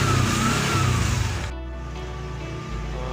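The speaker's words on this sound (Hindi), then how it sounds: "थोड़ा सा स्टार्ट करके 2 मिनट रुकना चाहिए, जिससे जो है मोबिल जो है वो पूरा इंजन में हर जगह फैल जाए" Auto rickshaw engine, just started and left idling to warm up, runs with a loud, steady mechanical drone close by. The roar eases to a lower, even idle partway through.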